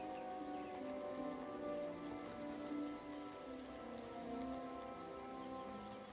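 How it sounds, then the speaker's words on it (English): Steady rain in the game Oblivion Remastered, a continuous soft hiss of falling drops under faint tonal game ambience, fairly quiet and unchanging throughout. "I think it's raining here on the AMD one"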